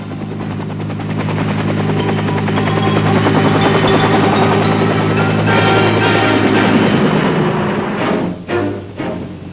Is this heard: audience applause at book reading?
no